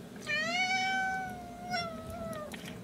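A domestic cat meows in a long, drawn-out, wavering cry with a brief second rise near the end, loud and close, with no talking.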